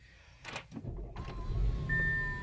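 Audi infotainment screen motoring out on startup inside the car: a short electric motor whir that rises and then holds a thin steady tone, with faint clicks and car hum, fairly quiet.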